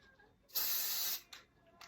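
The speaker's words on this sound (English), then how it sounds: "Now for your patch, you're gonna wanna use some tacky spray." A single sustained aerosol spray hisses loudly for about half a second, followed by a brief shorter puff of spray.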